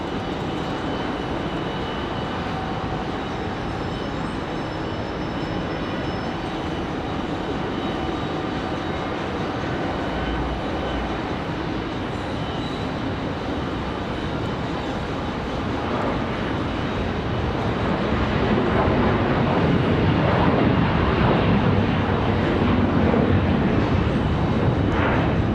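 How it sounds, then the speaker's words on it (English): An Air Canada airliner moving at Raleigh Durham airport produces a continuous low jet engine rumble and whine, fairly distant at first and growing louder and fuller toward the end, with no voices. "We've got Air Canada on the move. Headed back to Toronto."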